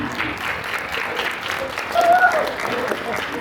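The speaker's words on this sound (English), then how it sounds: "So I want you guys to just give the cadets a round of applause for being here, please." Audience round of applause for cadets at an evening veterans resource fair, many hands clapping in a continuous, moderately loud wash that swells briefly midway, with some voices mixed in.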